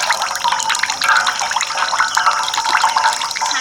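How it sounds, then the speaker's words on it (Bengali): Excess water drains from fresh chhena squeezed gently in a cloth, a close, continuous trickle and splatter of liquid with small irregular drips running throughout. "ছানা থেকে যে জলটা রয়েছে এক্সট্রা সেই জলটা কিন্তু বেরিয়ে যাবে"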